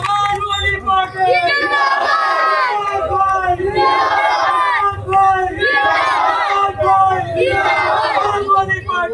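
At a Samajwadi Party corner meeting at Shamanagar Chowk, a loud crowd shouts and chants in repeated surging waves, rising and falling in a steady rhythm over sustained hubbub.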